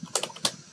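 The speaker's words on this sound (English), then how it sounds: "if I type" Two quick bursts of key clicks on a computer keyboard, close and crisp, entering text into a registration form.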